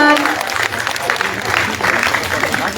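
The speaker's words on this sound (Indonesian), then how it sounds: "Boleh dong kasih tepuk tangannya lagi untuk film Gampang Cuan" An audience claps for the Indonesian film Gampang Cuan at a film event, a brief burst of clapping with a voice audible at the start and crowd chatter mixed under the applause.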